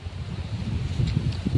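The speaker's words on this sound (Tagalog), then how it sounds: "Malakas yung hangin" Strong gusts roar and buffet the microphone, a low rumbling rush that swells louder toward the end, with no one speaking.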